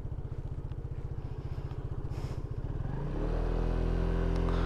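An automatic scooter engine runs nearby while riding on Elba Island, putting out a fast, even putter that rises into a louder, smoother drone as it speeds up.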